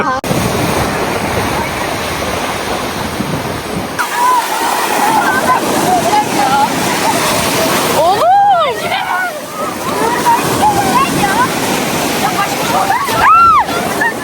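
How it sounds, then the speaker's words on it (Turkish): Sea waves surge and wash onto a beach at Antalya on a school trip, a broad continuous roar of surf with wind, while people talk, shout and laugh over it close by. "Oğlum çok dalga var"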